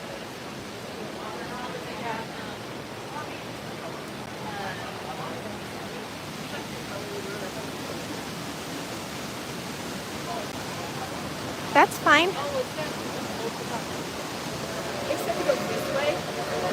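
The waterfall of Mystic River Falls, a river raft ride at the Silver Dollar City amusement park, roars and hisses constantly throughout, with a brief voice cutting in and a few clatters near the end.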